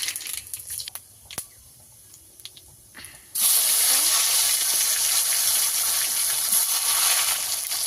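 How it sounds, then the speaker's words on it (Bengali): Dried red chilli, nigella seeds and a bay leaf drop into extra oil left from frying potatoes, bursting into a loud, steady sizzle that jumps in sharply midway after quieter kitchen clatter. "আলু ভাজার তেলেতে আরেকটু তেল দিয়ে দেব। শুকনো লঙ্কা, কালো জিরে দিয়ে দেব, একটা তেজপাতা"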